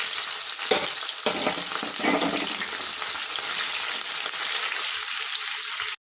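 Chopped onion and green chilli sizzle steadily in hot oil with chana dal in a pan for a brinjal curry, a dense continuous frying hiss with light stirring that cuts off at the end.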